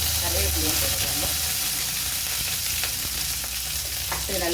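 Onion, curry leaves and mustard seeds sauté in hot oil for a Tamil rasam, a loud continuous sizzle and crackle with stirring scrapes, while a voice speaks faintly underneath.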